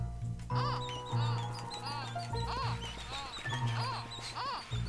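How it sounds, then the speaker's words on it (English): A bird companion in the video game Wuppo gives a string of about five high, bending squeaks in quick bursts, each a short warbling chirp, over a low steady game background. "Right trigger now makes the bird squeak."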